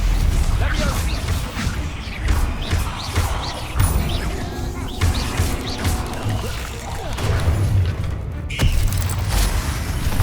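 Confringo fire spells striking in Hogwarts Legacy: repeated fiery bursts and crashing impacts, some rhythmic, layered with mechanical clatter and a busy, noisy combat background.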